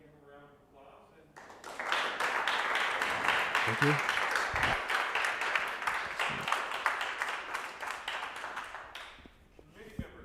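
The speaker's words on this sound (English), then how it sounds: "let's go ahead and give him a round of applause" An audience at a university thesis defense breaks into sustained applause of many hands clapping, building quickly and holding steady for several seconds before tapering off, with a brief spoken thanks at the end.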